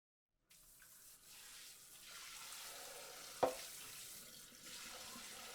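Water runs from a kitchen tap into a sink while dishes are washed, a steady close hiss that starts suddenly, with one sharp clink of crockery partway through and no talk.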